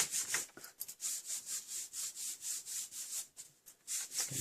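Paper scraps rubbed over a stamped card to make a marble effect give a steady run of close, dry scratchy strokes in a quick even rhythm, with no voices.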